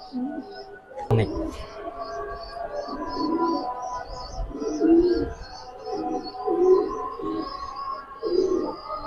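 Soft, low coos of high-flyer pigeons repeat every second or so, close by, with faint chirps and background murmur throughout.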